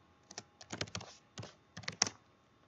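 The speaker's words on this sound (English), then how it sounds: "Make sure this has focus before I start typing." Intermittent typing on a computer keyboard during a web scripting session, short clusters of close, crisp keystrokes separated by brief pauses, fairly quiet with no talk.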